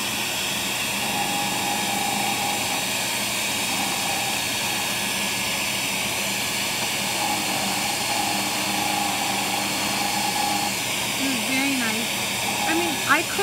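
A JOOLTOOL grinder works over a nylon Fretz hammer, its steady loud whir running unbroken throughout with faint shifts in tone as the piece is pressed and smoothed.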